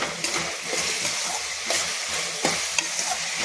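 Onions frying in oil in a pan for an Indian dish, a continuous close sizzle broken by scraping, clattering stirs of a spatula at irregular intervals.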